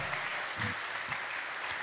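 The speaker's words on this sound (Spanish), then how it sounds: "¿Qué le parece si se da un buen aplauso?" A church congregation claps together in a continuous, fairly soft round of applause that holds steady without any voices over it.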